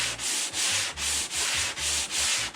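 Steady rhythmic sanding scrapes across mahogany wood on a Chris Craft boat under restoration, back-and-forth strokes repeating about every half second, close and continuous with no voices.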